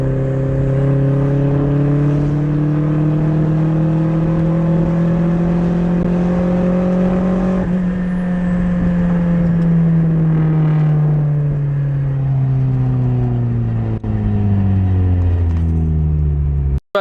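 A turbocharged Mazda Miata engine revs loud and close through a sustained boost pull, its pitch climbing steadily toward about 6,000 RPM and then falling away as the revs drop, with no talking.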